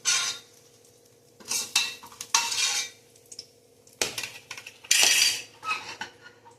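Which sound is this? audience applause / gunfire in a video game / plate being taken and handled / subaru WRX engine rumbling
plate being taken and handled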